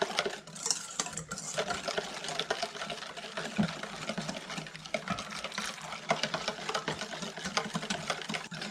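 Crème brûlée custard whisked in a bowl: continuous wet, rhythmic swishing and light scraping at the bowl's edges, close and moderately loud, with no speech.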